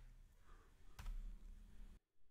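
Keystrokes on a computer keyboard while entering a command at a Windows command prompt, a quiet stretch of close tapping that stops abruptly near the end.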